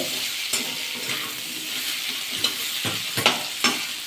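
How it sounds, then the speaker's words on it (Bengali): Potatoes fry in a pan with a continuous close sizzle, broken by several sharp scraping and clinking stirring strokes at uneven intervals. "আলুটা ভালো করে ভাজা করে নিতে হবে"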